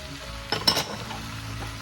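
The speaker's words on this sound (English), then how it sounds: "Our bitter melons. Fry them all." Sliced bitter melons dropped into a hot pan for a Filipino vegetable stew, a sudden loud sizzle with a few utensil clinks, then steady frying hiss.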